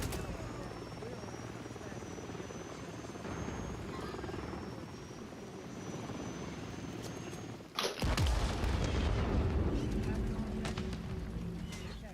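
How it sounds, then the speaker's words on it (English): A friendly overwatch helicopter in a video game thrums with steady rotor chop, joined partway through by a sudden louder burst of combat noise, with talk over the top. "Friendly Overwatch Helo inbound."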